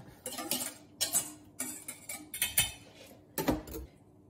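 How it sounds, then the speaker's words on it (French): Custard mixture of cream, egg yolks and sugar is poured back into a metal saucepan, giving a series of short clinks and scrapes of utensil against the pan at an uneven rhythm, quiet and close with no talk. "On remet tout ça dans la casserole."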